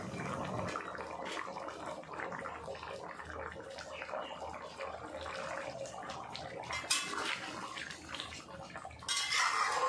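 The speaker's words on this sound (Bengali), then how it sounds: "ভালো করে ফুটিয়ে নেব।" A pot of Bhola hilsa fish curry with taro roots boiling on the stove, a steady close bubbling and watery churning with a few faint clinks of utensils and no talking.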